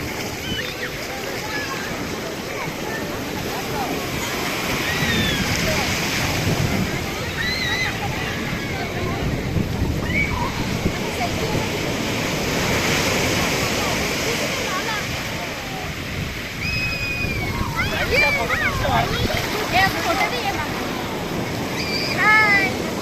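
Sea waves wash onto the beach at Puri, Odisha, in a steady, rolling surf with swelling sweeps and wind noise, while faint voices and chirpy cries come and go over it.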